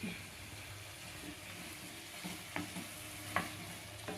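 Raw banana and tomato curry stirred in a pan, a steady soft sizzle with a few sharp scrapes of the spoon against the pan, no talking.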